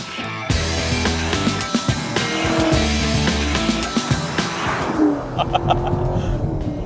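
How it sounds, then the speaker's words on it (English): A Chevrolet Camaro fitted with a JMS PedalMAX throttle controller accelerates hard, its engine rising in a loud, rough roar that fades away toward the end. "Simply put your foot down and start enjoying the improved power and throttle response of your Camaro."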